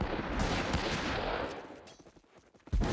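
Rapid gunfire in the Western shooter game Fistful of Frags, dense bursts of shots with loud reverberant cracks that thin out briefly before a fresh loud blast near the end.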